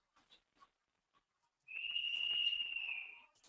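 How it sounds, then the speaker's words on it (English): A steady high whistle rings out at 4 a.m., rising suddenly and holding for about a second and a half before fading, preceded by a few faint scattered ticks and soft sounds in an otherwise quiet night. "Can all of you hear this whistling sound in the background?"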